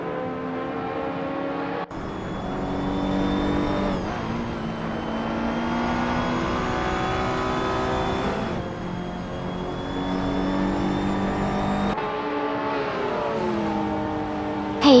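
Retro street race cars in a racing video game, Ferrari, Porsche and Lamborghini Countach models, engines droning and whining steadily with shifting pitch, gear changes and a sharp cut near the end, continuous and fairly loud.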